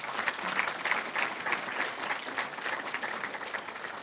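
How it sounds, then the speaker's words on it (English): An audience at a hospital surgical team award celebration claps in sustained applause, a dense, even patter of many hands at moderate distance, without voices standing out. "So we have a round of applause for Danielle."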